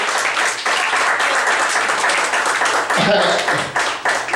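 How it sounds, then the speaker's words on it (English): A round of applause for a pizza delivery woman from 5 Star Pizza, steady clapping that swells and then thins toward the end, with voices briefly cutting through near the close. "Give her a round of applause."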